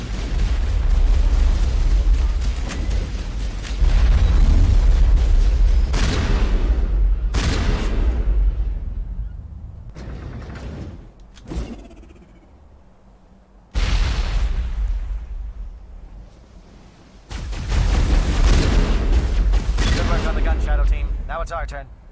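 A shotgun firing high explosive rounds in the Mass Effect game, Legendary Edition, booms repeatedly in long, loud blasts and rumbling explosions, with short quieter gaps between volleys of combat noise.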